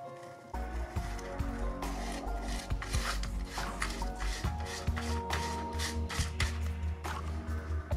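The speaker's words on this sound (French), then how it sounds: "Je vais juste nettoyer un peu tout ce qui est des résidus de colle là." Scraping and rubbing on a wooden OCCRE Santisima Trinidad ship model hull section, cleaning off dried glue residue; close, steady rasping strokes in irregular bursts with no talk.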